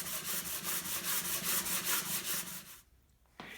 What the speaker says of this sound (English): So I'll just sand them with some 80 grit sandpaper attached to a piece of scrap MDF board.